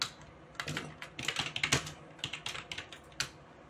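Computer keyboard typing in an irregular run of quick clustered keystrokes, close and clear, with short pauses between bursts and no voices.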